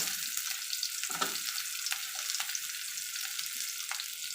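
Tomatoes and onion sautéing in a pan for street-style thanni chutney, a steady close sizzle and frying hiss with occasional stirring scrapes, no voices.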